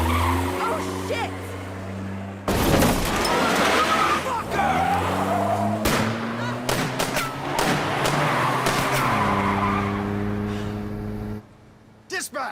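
In the video game As Dusk Falls, a car skids with long squealing tires and revving engine tones, punctuated by several sharp crash impacts, all loud and close, with voices shouting briefly over the chaos.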